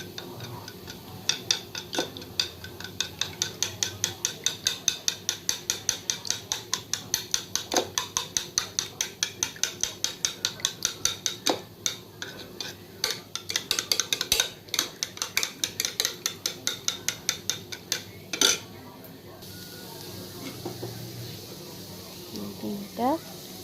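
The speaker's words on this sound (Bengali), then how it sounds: "ডিমটা ফাটিয়ে ডিমগুলোকে ফেটিয়ে নিয়ে" Eggs are whisked by hand in a bowl after garlic is fried, a fast steady clatter of rapid ticking strokes running for most of the stretch, then easing off near the end while a voice talks now and then.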